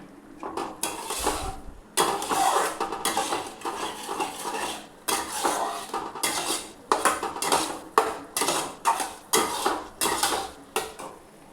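An onion and garlic spice paste is sautéed in a pan with a little hot water, heard as rhythmic metal spatula scrapes and clinks against the pan, repeating steadily and close up with no voices.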